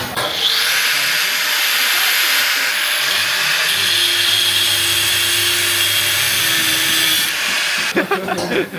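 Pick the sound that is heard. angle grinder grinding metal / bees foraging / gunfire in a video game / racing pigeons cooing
angle grinder grinding metal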